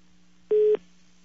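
A telephone tone heard while placing a call: one short, steady beep of about a quarter second over a faint line hum.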